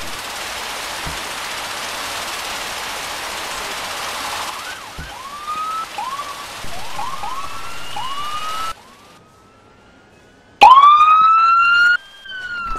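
Wailing and yelping ambulance sirens in the Emergency 4 game, loud and close, with repeated rising whoops, a brief quiet gap, then a sharp loud siren burst near the end; no talking.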